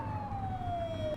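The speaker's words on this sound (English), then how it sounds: "Get on their tail and flip the siren." A police car siren in the video game The Precinct: a single loud wailing tone that glides steadily downward, heard alone and close over a low engine rumble.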